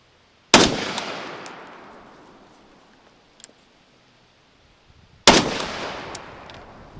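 Two loud, sharp gunshots fire a few seconds apart through a JK Armament Form 1 suppressor fitted with a single baffle. Each crack trails off in a long reverberant decay, with faint clicks in between.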